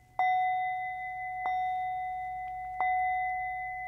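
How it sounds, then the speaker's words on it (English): A singing bowl struck three times with a mallet, each tap giving a bright ringing tone that slowly fades into a sustained hum, evenly spaced and heard alone. "you can simply wake up the bowl with one chime, one tap, or you can do a series of taps."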